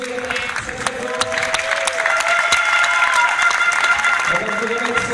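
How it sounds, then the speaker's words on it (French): Crowd applause at a wheelchair football tournament, the Geneva's Cup in Le Grand Saconnex, Geneva: sustained clapping that swells slightly, with a voice over a loudspeaker and tonal ringing sounds in the hall. "Philippe Magé, que je vous propose d'applaudir très très fort."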